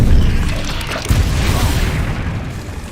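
A Confringo spell blast in the game Hogwarts Legacy, a loud booming burst with a sharp crack near the one-second mark, sitting over dense rumbling game sound that carries on steadily.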